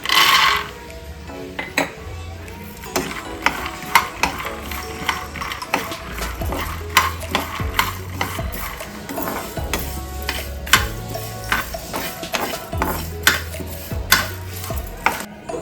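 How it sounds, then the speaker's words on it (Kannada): Peanuts frying and being stirred in a pan in a home kitchen: repeated scraping and clattering strokes with a faint sizzle, loud and close, recurring in irregular bursts without speech. "ಇವಾಗ ಒಂದು ಬಟ್ಲಲ್ಲಿ ಕಡಲೆ ಬೀಜ ಹಾಕ್ಕೊತಾ ಇದ್ದೀನಿ"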